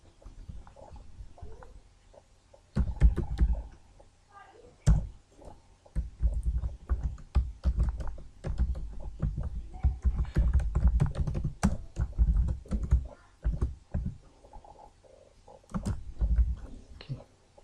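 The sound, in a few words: typing Java code on a computer keyboard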